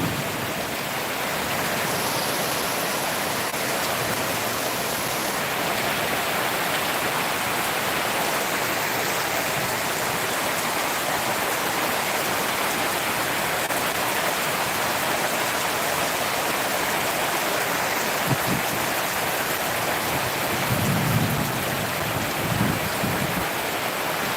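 Unseasonal rain falls steadily in Mahad, a dense, even hiss of downpour with no break, with a few faint low thuds near the end.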